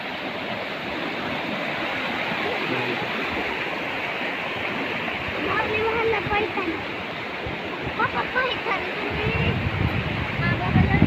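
A stream runs at the foot of a hill by a temple, its continuous rushing water noise underlying the scene while people talk nearby and voices grow busier toward the end.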